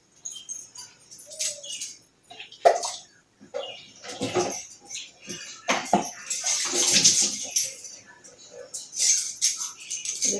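Hands are washed under running water, with intermittent splashing and rinsing bursts. A voice is heard between the splashes.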